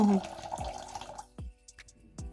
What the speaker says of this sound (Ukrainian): вливаю 85 грамів чи мілілітрів води